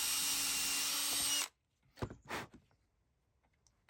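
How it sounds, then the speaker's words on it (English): A power drill whines steadily and loudly for about a second and a half while pre-drilling wood, then stops, leaving a few quiet knocks and handling sounds. "Another little pre-drill right here."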